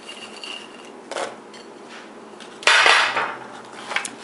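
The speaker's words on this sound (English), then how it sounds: "let me go ahead and just toss some of these pecans in" Pecans tossed into a bowl of melted chocolate for Valentine's candy clusters make a short clatter near 1 s, then a louder scraping, rattling burst of nuts and utensil against the dish, fading over a second.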